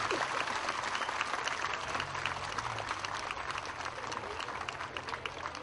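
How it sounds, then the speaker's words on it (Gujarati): A crowd at a Saurastra Jaldhara Trust gathering in Supedi applauds as Chief Minister Narendra Modi arrives on stage: dense, steady clapping that fills the whole stretch, with some faint voices mixed in. "તમામ મિત્રો જોરદાર તાળીઓથી આપણા લોકલાડીલા મુખ્યમંત્રી શ્રીનું સન્માન કરીએ"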